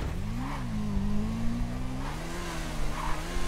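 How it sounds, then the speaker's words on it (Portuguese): A motorcycle engine revs in GTA 5, a steady mid-pitched drone rising and easing with throttle, fairly close and alone. "Vamos ver se essa moto aí corre, velho."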